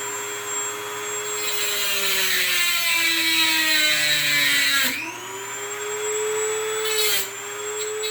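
A power tool grinds through a metal rod for a wine stopper, its loud, high whine holding steady and then dipping in pitch twice as it bites into the metal.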